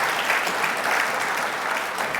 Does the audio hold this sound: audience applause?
yes